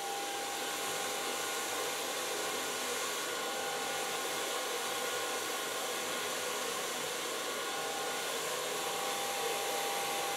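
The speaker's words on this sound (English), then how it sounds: "And come blow dry it again with a brush." A hair dryer blows steadily while hair is brushed and dried, a constant airy whoosh with a faint high whine that stays even from start to finish.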